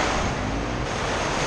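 Small ocean waves breaking at a beach in Veracruz, heard as a steady, broadband wash of surf with wind buffeting the microphone, continuous and close, with no voices.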